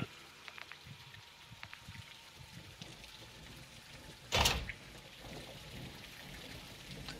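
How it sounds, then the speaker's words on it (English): Heavy rain in a Call of Duty: Modern Warfare II campaign mission patters softly and steadily, with scattered light ticks and one sharp burst of noise midway. "It's raining fucking hard."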